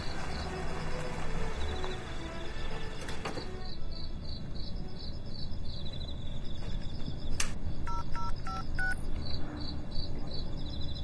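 Phone keypad tones dialing a call to the police: a series of short electronic beeps, several in quick succession, over a steady background of chirping crickets outdoors.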